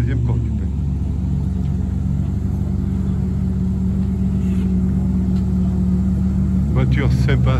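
Ferrari race cars idling at a hill climb race, a deep steady engine rumble close by that swells near the end, with someone talking over it.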